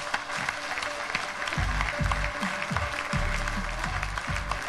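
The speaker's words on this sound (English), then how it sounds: "ladies and gentlemen, a round of applause for Mr." Audience applause at the opening ceremony of a Bangladesh investment summit, greeting a corporate founder and CEO as he heads to the stage; steady, dense clapping over a low, rumbling background that holds for the whole stretch.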